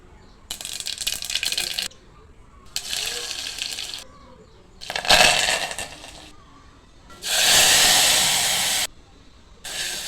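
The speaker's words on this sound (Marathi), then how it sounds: "त्यानंतर वरण फोडणी घालून घेते" Hot tempering poured into dal, producing four separate bursts of loud hissing sizzle, each lasting one to two seconds, with short quiet gaps between them.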